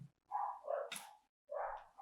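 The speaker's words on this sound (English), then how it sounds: "my dogs are so disrespectful. They're going off in the background." Dogs bark in the background, a few sharp yapping barks in short bursts with a pause between them, faint and somewhat distant.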